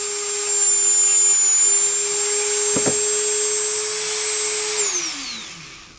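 A Dremel 3000 rotary tool runs at top speed with a loud, steady high-pitched whine, then winds down as it is switched off near the end.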